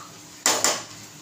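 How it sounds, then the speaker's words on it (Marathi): A pressure cooker lid is set down and closed over a pot of bottle gourd vegetable being cooked without water, giving two quick metallic clanks close together, loud and near, with quiet kitchen room tone before and after. "परत हलवून घेते आणि कुकरचं झाकण लावते"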